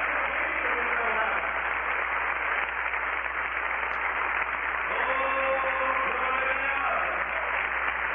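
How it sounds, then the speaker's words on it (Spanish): Congregation applauding during a Spanish-language evangelical church service, a steady dense clapping wash that runs throughout, with speech and faint tones mixed underneath. "Y damos un aplauso para ese nombre, Jesús Claret."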